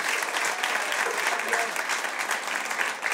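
Dense, steady audience applause fills a Buenos Aires theatre-bar during a live stand-up comedy show, an even wall of clapping from a packed room with no break.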